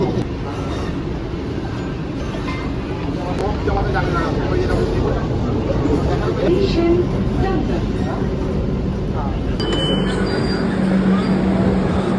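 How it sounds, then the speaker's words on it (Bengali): Kolkata underground metro train running deep below ground, a loud steady rumble with wheel noise throughout, close and continuous, with a voice talking over it. "তো নিচে অনেক নিচে মানে মাটির অনেক নিচে রেলওয়ে আমাদের কলকাতায়।"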